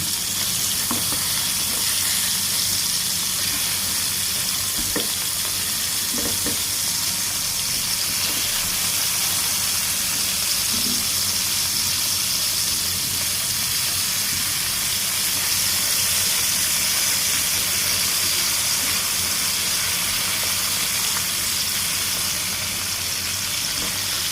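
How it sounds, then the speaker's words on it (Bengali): Pieces of fresh river pangas fish frying in oil in a wok, a loud continuous close sizzle lasting throughout with occasional faint stirring or turning sounds and no talk. "মাছগুলো আমি কড়াইতে দিয়ে দিয়েছি এটাকে আমি এক পিট এক পিট করে ভেজে নেব"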